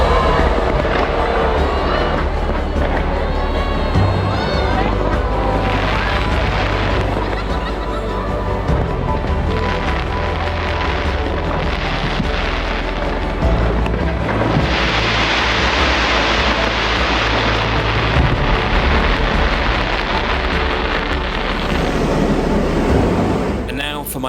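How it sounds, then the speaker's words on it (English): Fireworks burst over Taipei 101 for Taiwan's National Day celebration, a loud continuous barrage of booms and crackles with a crowd murmuring beneath throughout. "Then in the evening, I got to see Taipei 101 light up with fireworks to celebrate the"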